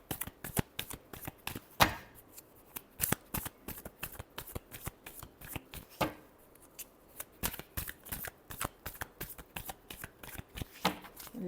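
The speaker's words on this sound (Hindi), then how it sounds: "Last shuffle." A deck of cards is shuffled close up in repeated riffling, flapping bursts that run steadily for about eleven seconds, with no talking.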